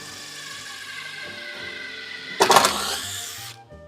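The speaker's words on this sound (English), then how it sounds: "pre-drill that, and then we're gonna pre-drill the other one" Power drill pre-drilling holes in a wooden sign board: a steady hum of machinery underneath, then one short loud whirring burst of drilling lasting about a second before it winds down.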